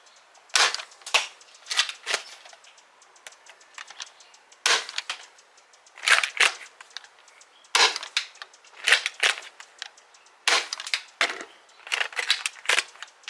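Dart Zone Pro MK 2.1 foam dart blaster firing repeatedly, sharp snappy pops in clusters of two or three with short pauses between, close and fairly loud with no talk.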